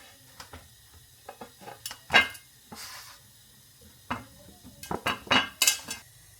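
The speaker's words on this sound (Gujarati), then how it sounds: "મેં ચમચી લીધી છે આવી રીતે દબાવવા માટે" Metal spoon clinking and scraping against a pan while pressing an aloo paratha, a string of sharp irregular taps and clatters, close and fairly loud, with no talking.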